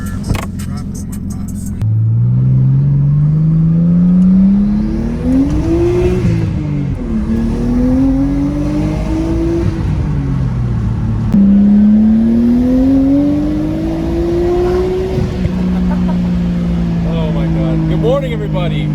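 A Nissan R32 Skyline sedan drives with its engine droning up and down through the gears, rising in pitch as it accelerates and dropping on shifts, loud and close from inside the car.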